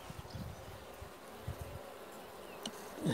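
Honeybees buzz around an opened hive during a Demaree swarm-prevention inspection of a weak colony, a faint, close hum with scattered louder passes and a few handling knocks.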